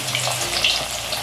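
A brief, steady sizzle of teasel gourd flowers shallow-frying in oil in a hill village kitchen, heard alone with no talking.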